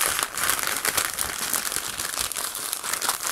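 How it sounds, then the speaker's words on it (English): Newsprint paper crinkles steadily as it is rolled around a handmade wand, a continuous close rustle and crumple with no talk. "So I'm just gonna roll the wand up in the paper"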